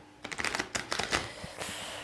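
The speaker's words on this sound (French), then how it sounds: "On va tirer des cartes donc, pour le passé." Tarot cards being cut and drawn for a reading: a quick burst of crisp papery flicks and slides, close and fairly soft, bunched in the first second and a half with no talking.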